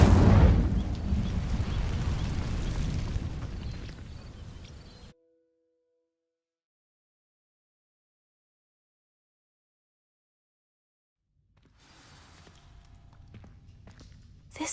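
Incendio fire spell setting dry vines alight in Hogwarts Legacy, a loud whooshing burst of flame that fades out into silence, followed later by a faint rumble returning.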